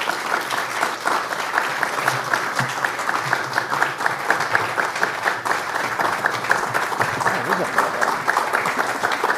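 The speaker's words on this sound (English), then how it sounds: "Please join me in welcoming this distinguished panel with a round of applause." An auditorium audience applauds as a panel walks onto the stage at a media discussion event, a steady dense round of clapping holding throughout at an even, fairly loud level.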